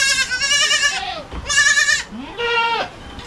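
Young goats bleat nearby: three loud, wavering cries with short pauses between them.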